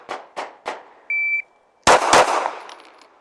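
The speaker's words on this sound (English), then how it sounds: "so 2 shots from the ready" After a short electronic shot-timer beep, a pistol fires two loud, close shots from the ready position in rapid succession, each ringing out with a long decay. A few softer knocks come before the beep.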